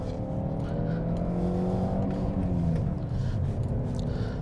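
Close engine of a Peugeot 407 Coupe climbing in revs, a rising harmonic drone that peaks and cuts off abruptly at the rev limiter just over 5,500 rpm before settling back into a rumble.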